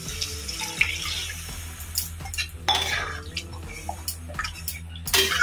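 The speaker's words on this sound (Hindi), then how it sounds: "एक ग्लास पानी," A glass of water pours into a cooking pan of oil, spices and chopped potato for a paneer curry in a home kitchen, splashing and sizzling with scattered metallic clinks of utensils against the pan, close and fairly quiet.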